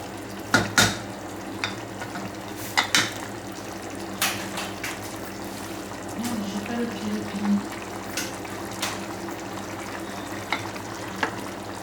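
A pan of one-pot pasta sizzles and bubbles as water is added, with soft clinks of a utensil against the pan at irregular intervals over a steady low simmer.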